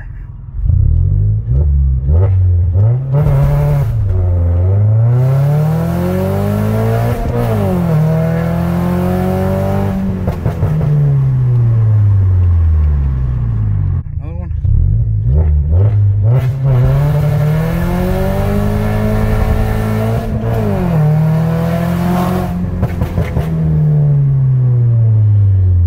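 Toyota Corolla E210 with a new rear motor mount doing a launch, the engine revving up and down repeatedly in loud, close sweeping rises and drops, with some clunking, and no talking.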